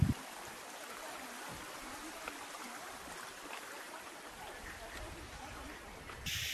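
Barabakhara Waterfall in Bargarh, Odisha, roars as a steady broadband wash of falling and flowing water, continuous and fairly distant-sounding, with a brief louder bump at the start and near the end.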